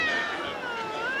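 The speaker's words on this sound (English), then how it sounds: "Lots of kitties." Several Cornish Rex kittens meow close up, their high, drawn-out calls overlapping in a brief chorus.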